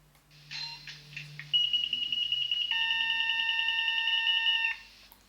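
Steady electronic beeping tones from the KVB safety system of a model SNCF BB 67417 locomotive, a high pitched sustained chime joined by a second lower tone, loud and close, ending abruptly after a few seconds.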